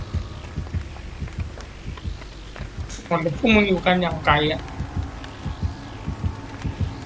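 Low, regular thumping heartbeat pulses from a video game run throughout, while someone talks excitedly over them in the middle.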